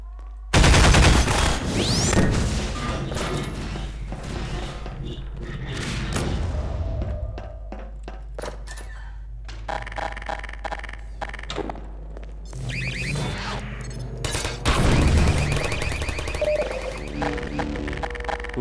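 Loud bursts of rapid video game gunfire, with machine-gun rattles and booming shots, come in waves over a continuous low rumble, with some quieter gaps between volleys.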